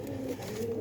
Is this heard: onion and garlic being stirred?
no